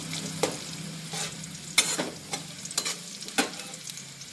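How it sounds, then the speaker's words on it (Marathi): Chopped onion and curry leaves frying in a pan, with a soft continuous sizzle broken by several distinct spatula scrapes and knocks at irregular intervals, close and clear with no voices. "आपण आता हे लाल होईपर्यंत कांदा भाजून घेऊया"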